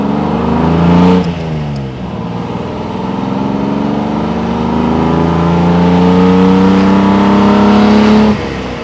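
A 1957 AC Ace Bristol accelerates along a farm road, heard from inside the car. The engine climbs through the gears, with one clear shift dip, before settling into a strong, steady drone that cuts off near the end.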